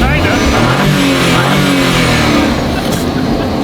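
A twin-turbo Ferrari F12 revs loud and close, its engine note climbing and falling over nearly four seconds with a sharp burst near the end.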